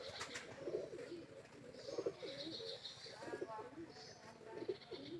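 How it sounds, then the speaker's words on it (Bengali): A prize-winning champion pigeon in Bangladesh coos softly in repeated low, throaty bursts, faint and close, while people murmur quietly nearby. "অজস্র রেজাল্টের অধিকারী এই একটা কবুতর"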